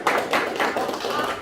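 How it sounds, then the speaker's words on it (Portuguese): An audience claps in a lively burst of applause at a church movement gathering, with a steady patter of many hands close by that lasts only a moment. "Uma salva de palmas para eles"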